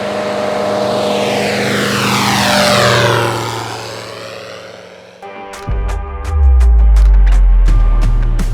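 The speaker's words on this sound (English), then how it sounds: "The plan was to spend the day flying the Orion Cubs and see what they were actually like." An Orion Cub light propeller aircraft flies overhead, its engine drone rising then sweeping past and fading, followed by a nearer, louder prop engine running with a steady buzzing tone.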